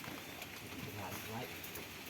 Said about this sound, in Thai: ฝนก็กำลังตก